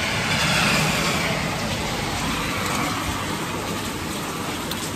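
Steady rain falls outside in a continuous broadband hiss, loud and even throughout with no voices.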